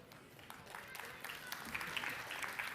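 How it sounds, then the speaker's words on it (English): Scattered clapping from the audience at a national-level school quiz grand finale, welcoming finalist students on stage; the applause is fairly faint and builds gradually, with a voice speaking over it near the start. "Give them an applause."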